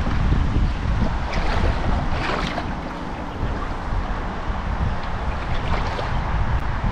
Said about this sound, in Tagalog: Taas ng hangin kung napapansin nyo.